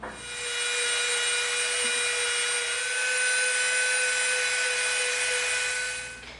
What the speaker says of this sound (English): now we're going to bring in our smooth bit and we're going to clean that up